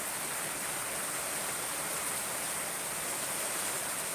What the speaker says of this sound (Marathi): सध्या पाऊस खूप चालू आहे